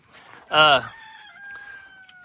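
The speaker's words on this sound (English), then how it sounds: "that rooster was coming for us, Ransom" A rooster crows once, loud and close, with a short harsh call followed by a fading drawn-out tail.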